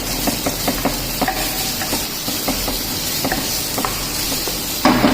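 Ginger garlic paste is stirred in a hot pan while cooking a vegetable sweet corn soup, giving a steady sizzle with repeated light spoon scrapes and clicks close by, and no talking.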